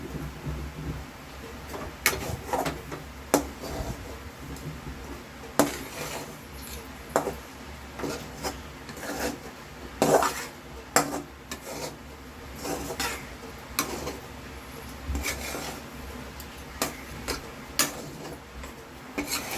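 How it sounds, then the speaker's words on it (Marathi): Fasting-recipe flour dough is mixed in a pan, giving repeated soft scraping and tapping knocks in an irregular rhythm, close and moderately loud, with no talking. "आता चांगलं ना मिक्स करून घ्यायचं."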